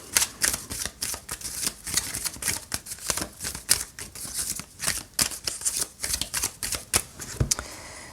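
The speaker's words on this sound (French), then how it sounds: "Et je vais prendre ici deux cartes du Petit Lenormand." Petit Lenormand cards being handled and shuffled for a reading, a rapid, uneven run of crisp flicks and riffles, close up with no talk.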